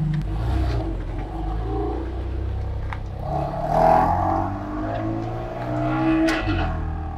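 Car engine revving on a timed lap, heard from inside: a continuous rising and falling engine note with road rumble and occasional rattles, steady and fairly loud throughout.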